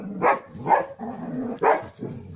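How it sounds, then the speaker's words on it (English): Dogs bark in several loud, close bursts outdoors, three sharp barks with shorter yips between them, no talking. "The dogs are out in force playing."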